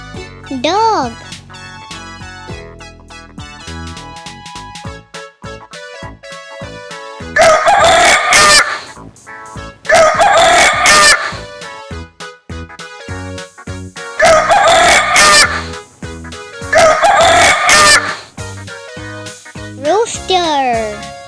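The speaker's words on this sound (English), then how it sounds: "Rooster." A rooster crows four times in evenly spaced, loud cock-a-doodle-doo calls, set against light children's game music.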